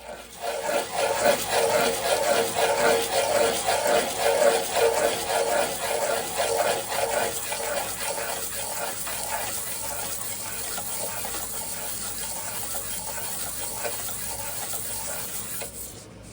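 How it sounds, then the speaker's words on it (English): Hand cutting of soft brass and hardened steel parts for a homemade 3/8-inch M12 impact wrench, a steady scraping, rasping sound that is louder at first and then evens out, with no voices. "You can actually hear the difference in sound between the soft brass and the hardened steel."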